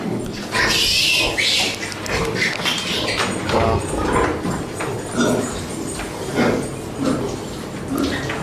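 Vaccinated piglets on a pig farm grunting and squealing close by, a busy, continuous chorus of small pig noises with some human voices faintly underneath.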